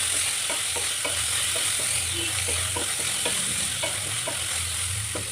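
Onions fry until brown for a ridge gourd side dish, a steady close sizzle with regular soft scrapes of a spatula stirring through the pan, no voices.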